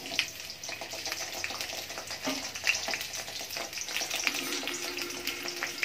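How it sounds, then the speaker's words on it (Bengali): Sliced onions fry in a kadai with a steady, close sizzle and occasional clinks and scrapes of a spatula stirring them; there is no talking. "পেঁয়াজটা ভালো করে ভেজে নেব"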